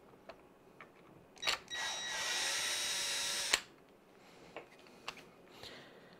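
A small power driver backs a screw out of the rear differential of a Traxxas X-Maxx RC truck, whirring for about two seconds, up close. Faint clicks and taps of handling come before and after it, with no talk.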